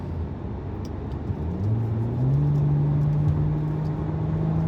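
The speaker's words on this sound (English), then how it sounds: "I don't know how they change the intake noise, but it sounds more aggressive and more sporty" A car engine drones with a deep rumbling intake note that swells and rises in pitch as it accelerates, steady and close with no talking.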